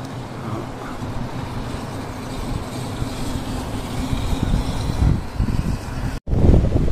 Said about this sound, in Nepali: यो हावा चाहिँ खुल्लै हावा चलिरहेछ है